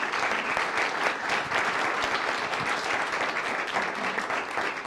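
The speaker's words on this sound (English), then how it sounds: "Give them a round of applause." Audience applause at a Saline city council meeting, welcoming council members: steady, dense clapping from a roomful of people that holds at an even level for the whole stretch.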